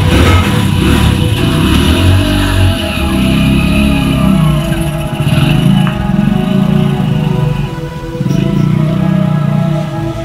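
A motorcycle engine idles loud and close while being warmed up, its steady rumble swelling and dipping with a few light revs throughout.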